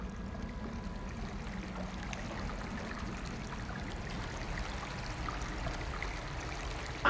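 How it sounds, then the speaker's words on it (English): A blood waterfall pours steadily in the video game Amnesia: A Machine for Pigs. It makes a continuous rushing, stream-like wash of flowing liquid at moderate level, with no voices. "look at the blood waterfall"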